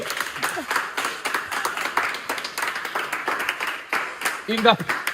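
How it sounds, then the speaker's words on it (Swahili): Church congregation clapping at a lively charismatic service, steady dense applause with voices rising over it, including a brief high trilling ululation near the end. "Piga Yesu makofi na vigelegele"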